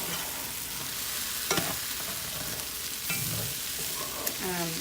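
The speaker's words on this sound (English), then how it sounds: "When the oil settles at the bottom, it kind of toasts the rice" Puerto Rican rice toasts in oil at the bottom of a pot, with a soft continuous sizzle broken by a few scraping stirs and clinks of a utensil.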